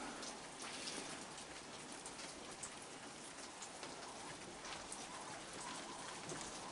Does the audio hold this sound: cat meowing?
no